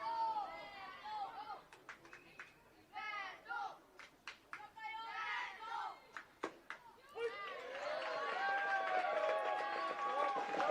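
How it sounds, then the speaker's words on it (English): A crowd of Austrian parents and friends cheers, shouts and chatters at a youth U-12 baseball game, with voices rising in bursts over the field, claps and calls between them, and a loud swell of cheering toward the end. "As you hear the crowd in the background, a lot of Austrian parents and friends here with us"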